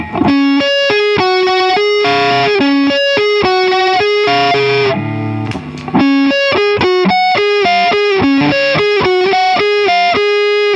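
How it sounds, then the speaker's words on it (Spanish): Epiphone electric guitar on its neck pickup through heavy distortion, playing a loud, sustained melodic riff of mostly single notes with a short chordal passage midway, alone with no talk. "con distorsión la diferencia está en la de mástil"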